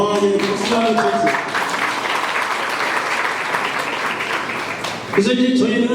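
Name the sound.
audience applause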